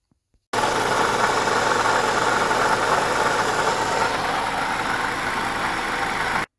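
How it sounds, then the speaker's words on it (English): A Lexus RX350 engine with a rattle, suspected to come from the water pump, runs steadily at idle, a loud, close, continuous hum with a faint rattly texture that starts abruptly and cuts off at the end. "We'll go ahead and run the engine and see if we can determine a little bit more of a source of the noise here."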